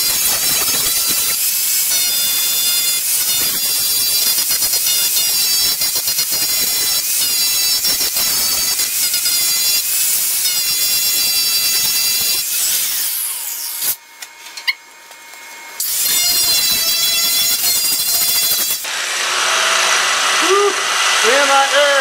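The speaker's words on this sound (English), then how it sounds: "Alright, let's grind some paint off." An angle grinder strips paint from a VW hood being reworked into a decklid, a loud, steady high-pitched grinding that runs almost continuously, dropping out briefly near the end before resuming with a changed tone.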